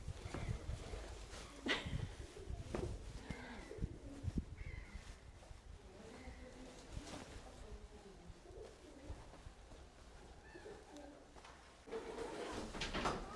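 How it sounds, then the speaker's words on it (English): Birds call outdoors at the old kremlin fortress of Rostov Veliky in Russia, with crow-like caws and cooing pigeons scattered irregularly over faint background noise. "Birds everywhere."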